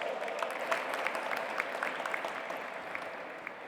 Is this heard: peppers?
no